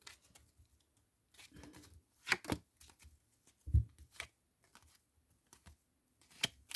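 Tarot cards shuffled and drawn in short, quiet bursts of riffling and slapping, separated by near-silent pauses, close by with no talking.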